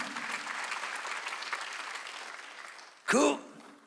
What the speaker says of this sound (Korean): 지금도 우리 기도 가운데 응답하시고 역사하시고 능력을 부어주시고 축복을 부어주시는 거 미션 박수를 치며 하나님께 영광을 돌리시라고요.